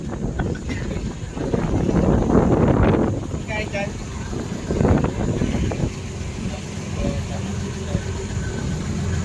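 Long wooden island-hopping boat crossing choppy sea off Port Barton, Palawan: steady engine drone and buffeting wind noise, with bursts of splashing hull slaps, under intermittent talking.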